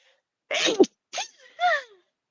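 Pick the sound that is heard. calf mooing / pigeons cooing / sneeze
sneeze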